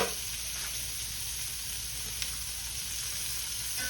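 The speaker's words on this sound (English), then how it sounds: "The key is to put the cold butter on there and let it slowly melt into the fish." Blackened snapper frying in a pan as cold butter melts over it, a steady close sizzle and crackle throughout, with no voices.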